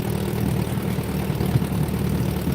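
An old small engine with varnish in its gas, parked for about ten years, idles with a low, steady, slightly uneven throb, close and moderately loud, with no voices.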